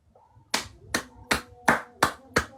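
Six sharp hand claps ring out at a steady, slightly quickening pace after a faint murmur, each crisp and close in a quiet room.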